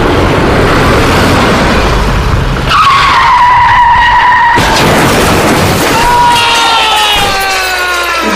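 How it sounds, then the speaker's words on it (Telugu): A car brakes suddenly, tyres skidding with a long screech, then crashes into a stone statue with a loud impact, followed by further scraping squeals and background noise. "పవన్ సడన్ బ్రేక్ కొట్టడంతో ఆ శిల్పాన్ని గుద్దేశాడు"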